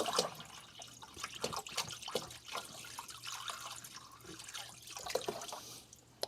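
Filtered water poured onto a Green Brick of Joy whetstone while sharpening a Shirogami 2 nakiri, with irregular splashing, dripping and trickling close by, fairly soft and without talk.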